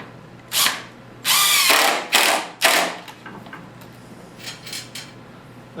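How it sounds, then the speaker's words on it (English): Power drill driving screws into 3/4 inch plywood on a table saw jig: several short close whirring bursts, followed by quieter clicks and handling sounds. "We're just going to put some screws in it."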